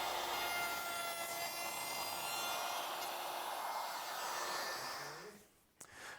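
Router cutting a channel in a wooden workbench top: a loud, steady high whine with a rough grinding edge, held for about five seconds before it winds down and ends with a clunk.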